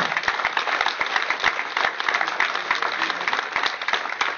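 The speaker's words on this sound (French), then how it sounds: "On peut aussi applaudir les boulistes pour leurs prestations pendant cette semaine bouliste." Applause for boules players during a boules week at a village patronal fête in Saint-André-les-Alpes, a steady patter of clapping hands from a modest outdoor crowd, continuous and moderately loud.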